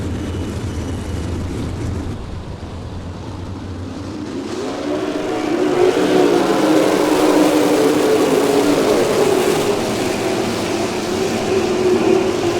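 Race car engines roar and build as the cars accelerate at Merrittville Speedway, a loud sustained drone rising in intensity and holding steady, with no voices.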